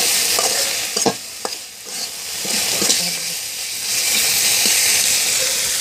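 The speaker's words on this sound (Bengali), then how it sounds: "এখন ভালো করে একটু নেড়ে চেড়ে পেঁয়াজের সাথে মিক্স করে" Ginger paste, cumin paste and garam masala being stirred into frying onions in a pan for chicken curry, a loud hissing sizzle with spatula scrapes and clinks, close up and without speech.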